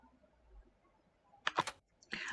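Computer keyboard keys are pressed, likely backspace: a quiet pause, then a quick cluster of three or four sharp clicks, and one more click just after.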